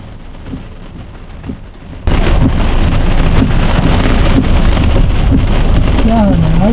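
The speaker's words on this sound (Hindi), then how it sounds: "बारिश हो रही है।" Heavy rain bursts on suddenly after a quieter opening and keeps pouring loud and close on a mountain road in Pakistan's Naran Kaghan valley, where vehicles are stopped; a voice is briefly heard near the end over the steady downpour.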